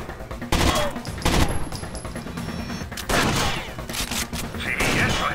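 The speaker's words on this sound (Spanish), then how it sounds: "Están disparando." Heavy bursts of automatic gunfire crackle through a Rainbow Six Vegas firefight, several loud volleys and scattered shots over a busy background, with a faint voice underneath.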